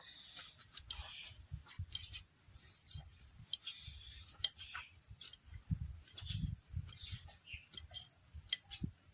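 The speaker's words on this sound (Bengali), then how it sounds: "সবগুলো ফুল এভাবে কুচি কুচি করে কেটে নেব।" Knife finely chopping surimala flowers, a soft rapid run of light ticking cuts close by and quiet, with faint rustling between strokes and no talk.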